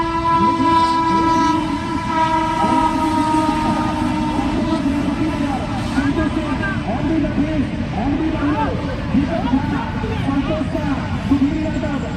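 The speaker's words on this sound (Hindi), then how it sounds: "फिर से ट्रेन आ रही है, फिर से ट्रेन आ रही है।" A loud train horn blares steadily for most of the stretch as a train rumbles past a cricket ground beside a railway crossing, with voices talking over it.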